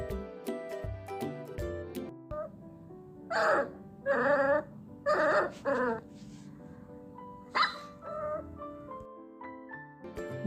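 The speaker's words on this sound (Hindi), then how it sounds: "ये है कुत्ते का बच्चा, जिसे हम इंग्लिश में बोलते हैं पपी" A puppy yips and whimpers in several short bursts, loud and close, over steady background music.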